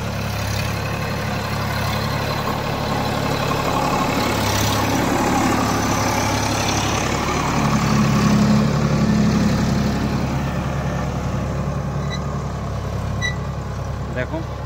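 A tractor engine drones steadily while forming raised beds in a winter watermelon field, a loud continuous outdoor rumble with a person talking over it.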